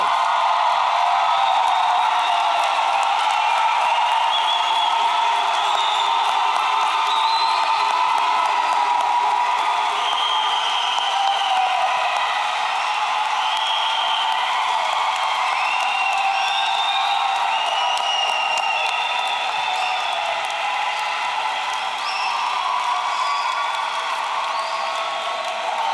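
A large crowd at SUNY Schenectady's 56th commencement cheers, whoops and claps for the graduates in a long sustained roar that stays dense and loud throughout, with scattered shouts rising over the applause.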